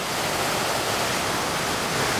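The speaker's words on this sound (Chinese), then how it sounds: "下边就瀑布啦" A waterfall below a hillside path at night gives off a continuous, loud, even roar of rushing water with no voices over it.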